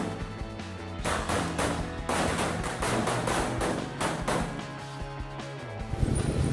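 A Corsairs match firecracker goes off outdoors in a rapid, loud string of crackling bangs lasting several seconds, with one final louder pop.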